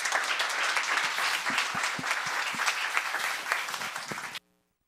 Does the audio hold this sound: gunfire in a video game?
no